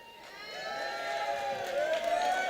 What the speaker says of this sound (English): I love all this cheering